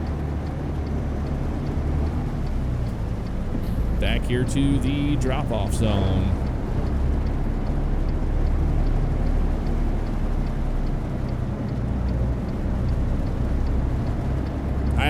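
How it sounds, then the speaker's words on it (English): Heavy rain at night drums steadily on a truck cab in American Truck Simulator, a continuous broadband hiss under engine rumble, while someone talks briefly over it. "it's pouring rain all the way down here."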